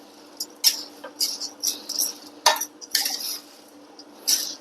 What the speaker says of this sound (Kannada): ಹೆಸರು ಕಾಳು ಹಾಕಿ ಮಿಕ್ಸ್ ಮಾಡೀನಿ